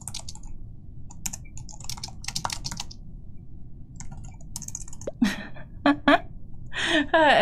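Someone types on a computer keyboard during a game of Among Us, with irregular bursts of clicking keys close by and brief voices and other game sounds near the end.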